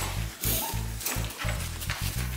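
Puppies at a dog kennel yipping and whimpering up close in a rapid, overlapping series of short barks and whines.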